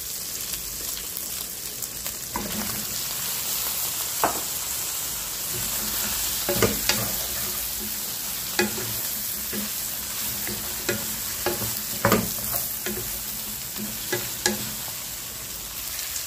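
Sponge gourd (patola) and ground meat sauté in a pan with a steady, rain-like sizzle and intermittent scraping and tapping of a utensil against the pan, with no talking.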